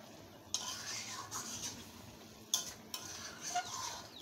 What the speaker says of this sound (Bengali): এখন এই পানি দিয়ে আমি আবারও একটু কষিয়ে নেব